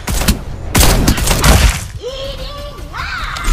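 Bursts of gunfire in the video game Farlight 84: loud, dense shots and impacts crowd the first two seconds, then thin out under game effects and a voice.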